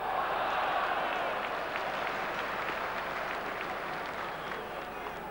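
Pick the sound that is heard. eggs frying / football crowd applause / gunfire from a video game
football crowd applause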